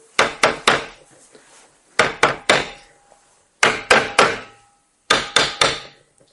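Someone mimics a little hammer tapping on a human skull with sharp, dry knocks, played in four bursts of three quick taps separated by short pauses.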